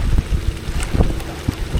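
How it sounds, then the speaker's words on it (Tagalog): Strong wind roars and buffets the microphone in loud, uneven gusts on a handline sardine fishing boat, with low rumbling thumps and a hint of water splashing nearby. "Malakas na yung hangin."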